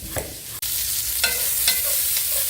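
Thin slices of smoked sausage sizzle in a non-stick brazier skillet, a steady close frying hiss broken by a few scraping stirs and clatters of a utensil, with no talking.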